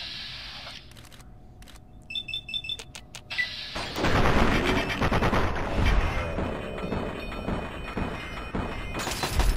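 Automated turrets firing in the video game Fallout 3, rapid bursts of loud gunfire erupting partway through amid chaotic combat noise, following quieter electronic beeps early on.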